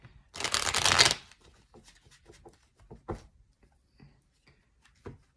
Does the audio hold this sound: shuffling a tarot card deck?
yes